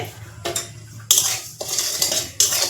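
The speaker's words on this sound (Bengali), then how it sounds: "এখন আমি এই খুঁটি দিয়ে নাড়াচাড়া করে এই কাউনটা ভেজে নেবো" A spatula scrapes and stirs kaun millet frying in a wok, several distinct metallic strokes in a quick irregular rhythm, close and clear, with no talking.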